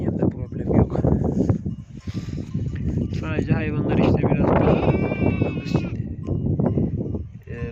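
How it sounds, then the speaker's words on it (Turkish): Merino sheep grazing in a wheat field bleat repeatedly, several wavering calls nearby, while someone talks over them throughout. "şu merinos koyun gördüğünüz gibi arkadaşlar"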